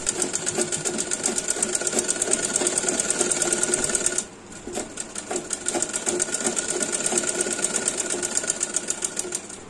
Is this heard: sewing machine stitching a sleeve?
yes